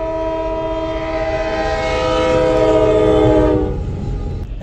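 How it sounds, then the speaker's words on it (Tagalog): A train sounds its loud, sustained horn while passing a road crossing in Canada on an autumn road trip. The horn holds for several seconds close by, then cuts off and leaves a rumbling train. "Dadaan yung train yan."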